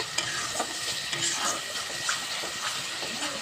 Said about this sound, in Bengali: এখন এটাকে ভালো করে কষিয়ে নেব। এখানে আমার মশলাটা ভুনা হয়ে গেছে।